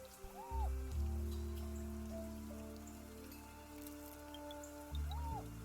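Rain falling in a survival video game: a steady soft patter of rain, with occasional deep synthetic game swells and faint tonal blips laid over it.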